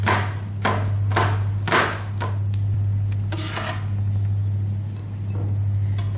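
A knife rasps and knocks on a board in several brisk, close strokes, then softer scraping over a steady low hum, with no talking; French beans are being chopped finely.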